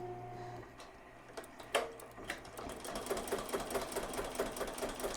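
A yarn embroidery machine starts up and settles into a fast, steady mechanical stitching patter with light ticks, quiet and close.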